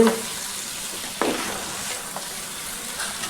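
Tuna fish pieces fry in oil while being stirred, a close, steady sizzling hiss broken by a few sharp scrapes and clinks of the spoon, with no talking.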